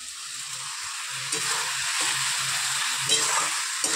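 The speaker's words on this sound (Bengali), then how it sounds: "এই পেঁয়াজটা এখন আস্তে আস্তে ভাজা হবে" Chopped onion sizzling steadily in a hot pan, with a spoon scraping and stirring in a few short strokes, heard close up and alone.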